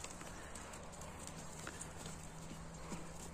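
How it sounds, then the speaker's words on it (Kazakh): A horse walks along, its hooves clip-clopping in a steady, fairly faint rhythm against a constant background hiss, with a hum running underneath and no speech. "көкүрөгү менен аттарды басып жүрүп бара турган ат экен бул"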